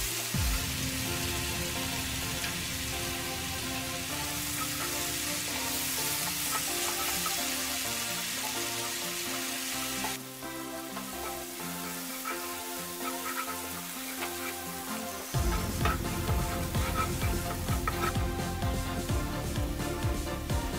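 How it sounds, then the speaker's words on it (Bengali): Onion with cumin paste frying in a pan for taki fish curry, a continuous crackling sizzle broken by scraping stirring sounds, louder in the final stretch, no one talking. "এবার আমি জিরা বাটা দিব এবং আবারও নাড়াচাড়া করব।"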